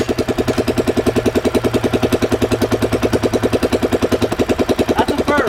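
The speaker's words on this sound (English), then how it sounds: "let's see if I can even get it started up without giving any throttle" A 79cc Predator engine on a Schwinn mini chopper idles close and loud with a rapid, even single-cylinder chugging that stays steady for several seconds after starting up.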